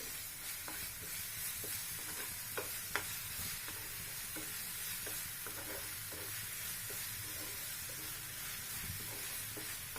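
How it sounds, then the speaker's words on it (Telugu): Ginger garlic paste frying in hot oil in a pan for a crab fry curry, giving a steady close sizzle with soft scraping stirs of a spoon throughout, no talking. "ఈ అల్లం వెల్లుల్లి పేస్ట్ కూడా ఈ ఆయిల్లో బాగా పచ్చివాసన పోయేంత వరకు వేగాలి."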